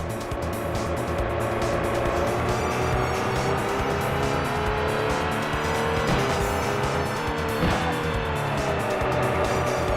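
Tires squeal continuously as a car drifts and snaps into oversteer in the PlayStation racing game Touge Max 2, the engine droning loud and steady over the full stretch with no talk.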